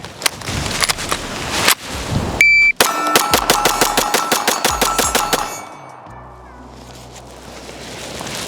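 Stock SIG P320 pistol fired rapidly, about fifteen sharp shots in a fast even string over roughly three seconds, loud and close, with brief noises before the string.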